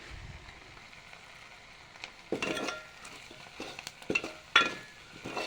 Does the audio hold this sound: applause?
no